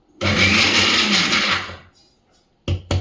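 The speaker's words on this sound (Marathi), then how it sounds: "चालू बंद करतच मिक्सर फिरवून घ्यायचा आहे" A mixer grinder grinds coconut chutney in pulses: a loud, rough whir runs for over a second and winds down, followed after a pause by two short, sharp bursts of the motor.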